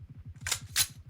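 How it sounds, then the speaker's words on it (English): Two quick mechanical clacks from a weapon reload in the mobile shooter BGMI, sharp and close, over a steady pulsing low background. "Reloading!"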